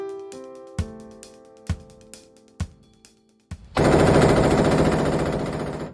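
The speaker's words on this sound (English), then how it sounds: "That's the sound of an AR-style rifle illegally modified to shoot fully automatic." An AR-style rifle illegally modified to fire fully automatic: a few sharp, separate shots ring out first, then a loud, dense sustained burst of rapid automatic gunfire that runs to the end.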